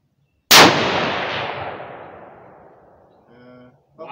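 A single loud rifle shot at an outdoor shooting range, cracking sharply and then ringing out in a long decaying echo, with a faint voice starting at the end.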